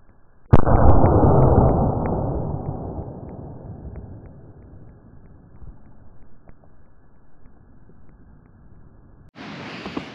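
Wet lead bursts in a pot of molten lead with a sudden loud pop, followed by a long fading sizzle and scattered crackles, then a brief rushing hiss near the end.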